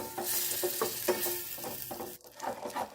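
Butter melting and sizzling in a pot on a stovetop, a steady close frying hiss with soft stirring scrapes and a brief dip near the end.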